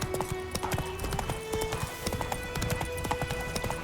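A horse gallops in the video game The Witcher 3, hooves clip-clopping in a fast continuous rhythm, loud and near, with little else over it.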